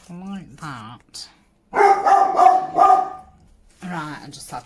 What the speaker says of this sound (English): I just had to pause while he was barking his head off